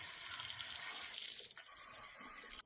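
Water runs steadily from a tap over a Wagner paint sprayer part as it is rinsed, a close hissing stream that shifts tone midway and stops abruptly at the end.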